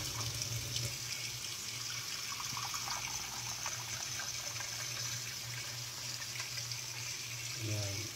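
A cup of water pouring from a small cup into ginataang papaya, a coconut-milk papaya stew, a soft steady trickling stream heard close and fairly faint, with a low hum underneath.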